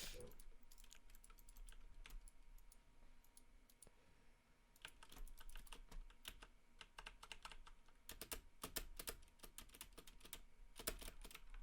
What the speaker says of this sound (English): you're definitely gonna hear a lot of button clicking for this one